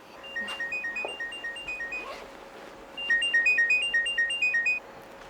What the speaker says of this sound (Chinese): 你怎么不接电话？